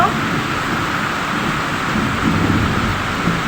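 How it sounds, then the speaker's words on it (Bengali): Steady, loud rain pours without a break while a low roll of thunder rumbles beneath it, with no voices heard. "ওই যে মেঘ ডাকছে, লাস্ট পর্যন্ত বৃষ্টিটা আসলো।"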